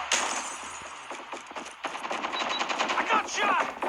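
Rapid machine-gun bursts and scattered gunshots fire in a team shooter video game during a fight to capture an objective, close and continuous, with faint voices in the background.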